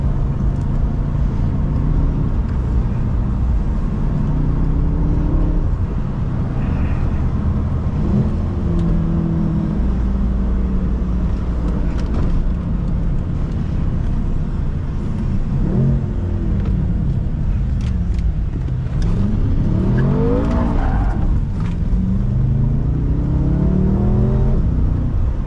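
A BMW M5 accelerates hard through second gear while drifting corners, its engine note climbing and falling in repeated revving sweeps over a constant loud cabin rumble.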